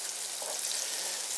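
Beer-battered grouse fries in Crisco oil beside a roadside, giving a steady close hiss and crackle of sizzling fat with no break in its texture.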